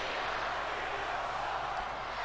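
Arena crowd in a WWE 2K20 wrestling video game, a continuous broad roar of cheering held at an even level through the short stretch, with no distinct chants standing out.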